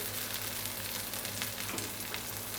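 A two-egg omelette with tomatoes sizzles and fries in a pan on the stove, a steady, soft crackle with faint pops, heard alone.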